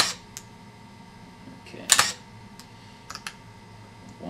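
A camera shutter fires at 1/500th of a second on a camera being repaired for a sticky shutter: one sharp, close mechanical click near the middle, then two fainter clicks later, in an otherwise quiet room.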